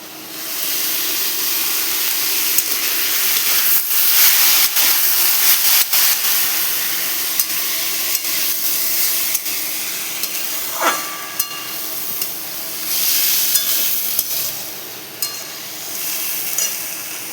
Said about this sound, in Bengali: এই দেখো আমার মোচাগুলো ভালো করে কষা হয়ে গেছে